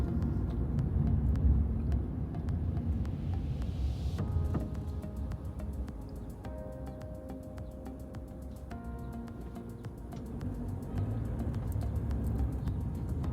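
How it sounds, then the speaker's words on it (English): Road traffic heard from inside a car during a New York driving test, a steady low rumble of engine and tyres with passing vehicles, no talking. "A lot of traffic going on here,"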